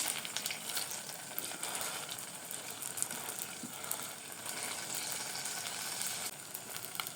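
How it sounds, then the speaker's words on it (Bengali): A potato and semolina snack sizzles steadily as it shallow-fries in a small amount of oil, a dense, even crackle continuing without talk throughout. "নাস্তাটি ভাজতে খুব বেশি তেল লাগে না, অল্প তেলে কিন্তু খুব সুন্দর ভাজা হয়ে যায়"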